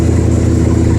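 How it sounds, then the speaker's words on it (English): A cold engine fitted with an Autolite 4100 carburetor runs under throttle, a loud, steady low engine drone through a brief one-second stretch with no voices. "Give her some throttle here. You can tell she's cold."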